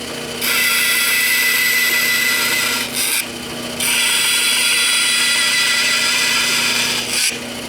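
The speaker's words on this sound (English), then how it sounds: "With a bandsaw, you can make what are called relief cuts." A bandsaw makes relief cuts into wood for a classic tool box, with a loud, sustained high-pitched cutting whine across two long passes separated by brief pauses.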